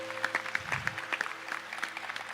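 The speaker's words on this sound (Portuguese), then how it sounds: "Pode aplaudir a palavra." Scattered, faint clapping rises from a church congregation during a sermon, soft and uneven hand claps over a low steady hum.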